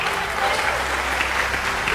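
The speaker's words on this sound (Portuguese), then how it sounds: "Pode aplaudir ao Senhor" Steady, dense applause from a congregation at a church service, close and loud throughout the whole moment before cutting off abruptly.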